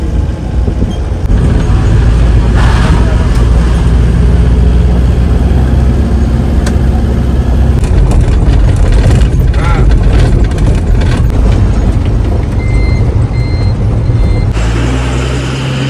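A loud bus engine rumbles steadily as the bus pulls in at Mangaon, with a hiss of air brakes and faint beeps amid background noise.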